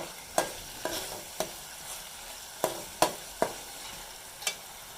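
Potatoes and peas cooking in a tomato masala make a soft, steady sizzle, broken by quick stirring scrapes about every half second to a second.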